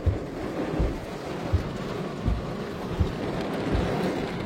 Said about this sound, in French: Il commence à y avoir plus de vent.